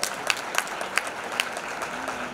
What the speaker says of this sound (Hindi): यार ताली बजा दो ना आप तो,